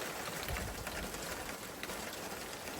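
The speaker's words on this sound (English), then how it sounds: "it is now raining" Steady rain falls outside at night, a soft, even hiss of drops spattering on surfaces, continuous and fairly quiet with no voices.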